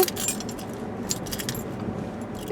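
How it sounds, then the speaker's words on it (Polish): Keys jangling on a keyring crowded with keychains, one key each for a block of flats' bin, mailbox, flat and cellar, give bright metallic rattles in several close bursts that run through the whole clip with no talking. "ja tych bryloczków mam tu tyle, bo w sumie kluczy to ja mam, powiem, mam kilka"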